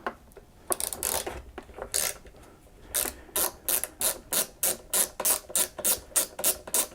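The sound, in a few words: ratchet wrench removing 8mm fastener on Homelite leaf blower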